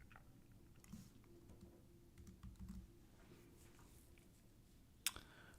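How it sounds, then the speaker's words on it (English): Quiet, irregular keystrokes on a computer keyboard tap in scattered bursts, with a sharper click near the end, all faint and with no talking. "I'm typing in the podcast promotion."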